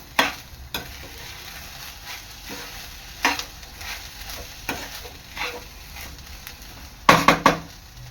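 Washed sesame seeds are dry-roasted in a pan for tilgul ladoo. Soft, scattered stirring scrapes and clinks sound over a quiet background, with a cluster of sharper scrapes near the end.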